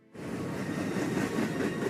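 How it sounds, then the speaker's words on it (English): A train starts up suddenly and keeps running on the tracks with a dense, steady rumble and clatter, loud and close, with no voices heard. "Trains."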